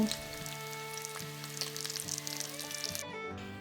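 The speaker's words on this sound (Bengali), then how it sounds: "এবার পেঁয়াজগুলো মিনিট তিনেকের মতো ভেজে নেব" Sliced onions fry in oil in a pan during a country chicken curry, giving a soft, steady sizzle with faint crackles and occasional stirring clinks.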